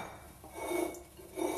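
Utensil scraping and stirring a vanilla dessert mixture in a bowl, two short close rubbing swells with a clink of the spoon against the side, no voices.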